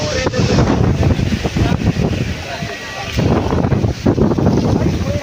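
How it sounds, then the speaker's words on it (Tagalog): Strong wind buffets and rumbles against the microphone in gusty, uneven bursts, with people talking underneath. "Lakas ng hangin"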